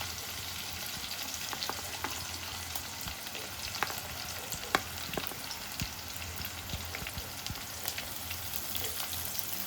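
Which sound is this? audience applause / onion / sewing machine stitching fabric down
onion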